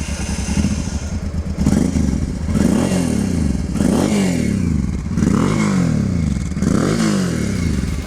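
Started and left running, a Honda Africa Twin motorcycle engine revs in repeated loud blips, each burst rising and falling over a rough idle, close by, with some clattering and thumps between revs.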